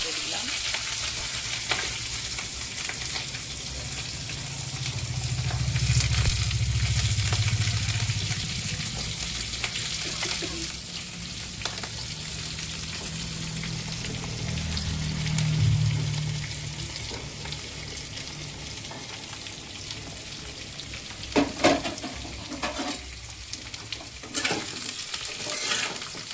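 Onions fry in a pan of oil already holding chillies, cloves, cardamom, cinnamon and peppercorns, giving a steady bubbling sizzle. Repeated spatula stirs and scrapes run through it, with a low rumbling hum swelling at times and a few sharp knocks near the end.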